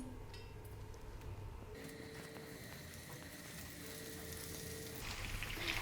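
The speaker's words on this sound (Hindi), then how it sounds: "अब हम इसको शैलो फ्राई करेंगे।" Eggs shallow frying in half a cup of oil give a steady, moderate sizzle and crackle, with continuous hiss that grows slightly louder toward the end.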